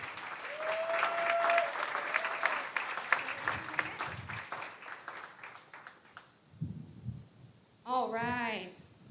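An audience at a county fair coronation applauds, a sustained patter of clapping that fades out midway. Voices and a whistling squeal are heard around it.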